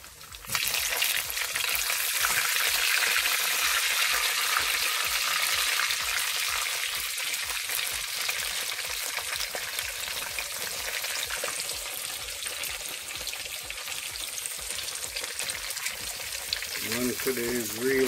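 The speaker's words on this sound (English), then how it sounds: "So I'm frying the bammy now" Steady, loud sizzling of bammy (cassava flatbread) frying in hot oil, a continuous crackle that holds throughout with only slight variation.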